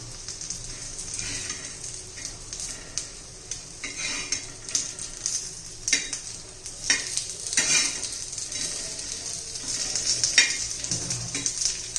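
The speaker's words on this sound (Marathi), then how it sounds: "पुन्हा साईडने थोडं तेल सोडून घेऊया छान अशा खरपूस आपण भाजून घेऊया" Alu vadi, taro leaf rolls, shallow frying in oil in a pan, a continuous close sizzle with frequent scraping and clinking of a utensil turning the pieces.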